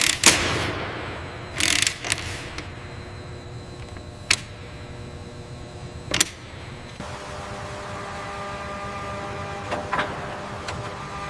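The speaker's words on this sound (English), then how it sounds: "finalizing the torque on this connection now" A torque wrench ratchets in short, sharp bursts while tightening a connection on a rusted S-64 Skycrane helicopter being rebuilt, with clicks spaced a second or two apart over a quiet hangar hum.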